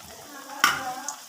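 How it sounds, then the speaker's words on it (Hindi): Peanuts dropped into a hot kadhai (wok) give a sudden hiss and crackle that settles into a soft sizzle, brief and close in a home kitchen. "अब इसको हम कढ़ाई में डाल देंगे"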